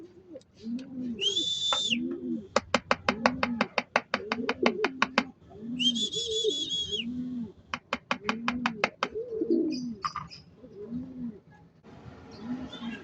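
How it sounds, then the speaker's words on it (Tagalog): Pigeons coo softly and repeatedly near a low-flyer pigeon outdoors, with rhythmic clicking or clapping bursts and bright whistle-like calls interleaved, moderately close and without talk. "Ayan na mga kaibon at unti-unti na silang lumalapit dito sa ating low flyer."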